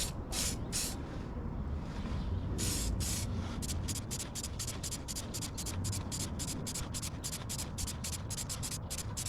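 Chain cleaner is sprayed onto a motorcycle chain in a rapid series of short, hissing aerosol bursts, close and fairly quiet, with a few longer sprays at the start.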